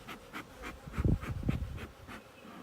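Agitated honey bees buzzing inside an open hive while being smoked, a close, rising and falling drone with soft rhythmic puffs and rustles, no talk.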